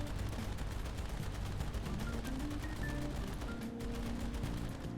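Rapid, dense machine gun fire from an aircraft in the War Thunder combat game, a continuous rattling burst of overlapping shots held steady and fairly faint throughout.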